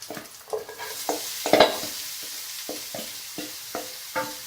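Włoszczyzna soup vegetables fry in melted butter in a pot with a soft sizzle, punctuated by repeated spoon knocks and stirring clatter at a loose, irregular rhythm, close by.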